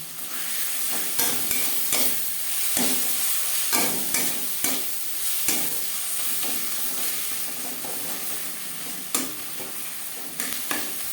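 A pan of onion and tomato with ginger paste and green chili paste is stirred over steady frying sizzle, with scraping strokes of a spatula landing at irregular intervals. No one is speaking.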